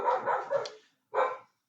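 A dog gives three sharp, close barks indoors: two quick ones in a row, a short pause, then a single final bark.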